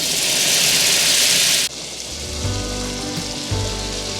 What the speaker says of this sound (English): in this same pot, we got the grease out. We're gonna add in a stick of butter.